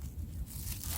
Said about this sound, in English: It's a Ziploc bag, so it seals.